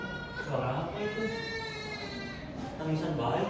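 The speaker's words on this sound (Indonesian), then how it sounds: "Tangisan bayi di hutan begini." An infant's cry is acted out in a school drama staging a forest scene, a wavering, whimpering wail held for several seconds with voices nearby.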